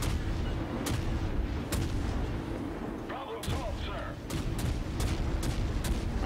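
Heavy naval gun salvos from warships in World of Warships boom at intervals over a constant low rumble of engines and sea, with a brief voice partway through.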